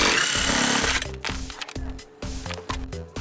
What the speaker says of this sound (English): it has two bolts with 15mm socket that we need to remove